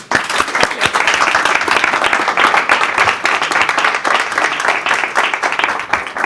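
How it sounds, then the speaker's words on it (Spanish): Audience applause for panel speakers at the close of a talk event on Chinese electric vehicles in the European market, a dense, steady patter of many hands clapping at close range, sustained throughout without voices. "Un aplauso para ellos"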